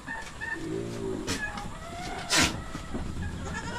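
Goats on a provincial Philippine farm bleat in a short nasal call early on, with other farm animal sounds and rustling around them and a sharp thud midway.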